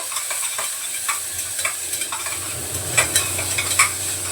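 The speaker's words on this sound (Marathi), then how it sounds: "आता कांदा टमाटा परतायला एक मिनिट" Onion and tomato sautéed in a pan, a loud, close, continuous sizzle and hiss with a spoon scraping and tapping the pan in an irregular rhythm, no voices.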